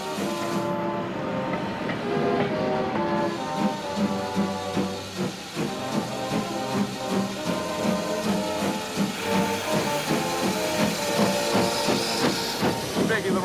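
A restored steam locomotive working steadily close by, a continuous dense chugging with hissing steam and rhythmic clickety-clack from the rails. Music plays over it throughout.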